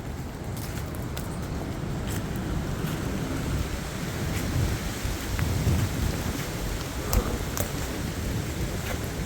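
Strong wind gusts of 70-90 mph thrash trees during a U.K. storm, a loud, continuous roaring rush with rising surges and scattered sharp cracks and creaks close by.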